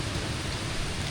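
Heavy monsoon rain pouring beside a flooded river, a dense, even roar of steady hiss with no breaks or voices.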